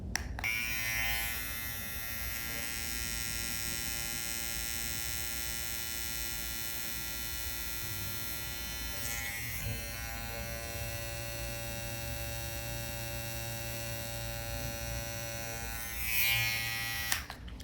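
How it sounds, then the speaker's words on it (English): A Vintage T9 professional electric hair trimmer runs continuously for the whole stretch, a steady high-pitched motorized buzz with a tonal whine, at moderate level and close by, with slight shifts in pitch near the middle and end. "And now let's see Vintage T9"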